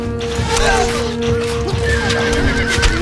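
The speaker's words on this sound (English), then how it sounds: "الفرس تعدو" A horse in a video game whinnies loudly and repeatedly over the steady clatter of galloping hooves, with battle noise and faint voices mixed in.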